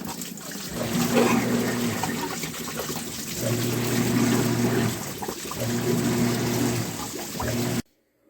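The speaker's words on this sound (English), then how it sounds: "you can put it in there and dump the water out of it" Water pours and trickles out of a part removed from a Kinetico water softener, a steady splashing flow in three surges with a brief lull between each, ending abruptly in silence.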